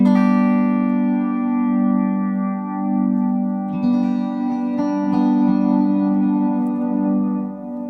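An electric guitar played through an MXR M300 reverb pedal rings out in sustained, shimmering chords whose tails wash into a lush, lingering reverb, clear and fairly loud with no talking.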